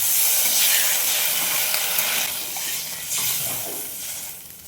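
Water hits hot oil and spice paste in a pan for a Bengali fish curry, letting out a loud, broad hissing sizzle that slowly eases off, close up with no voices.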